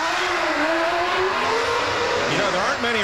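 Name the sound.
Williams Formula 1 car driving off after pit nose change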